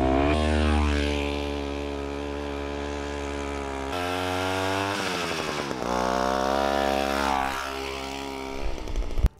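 Homemade two-stroke motorized bike powered by a snowblower engine, running with a loud, buzzing, chainsaw-like drone that shifts pitch a few times as the revs change, with no voices.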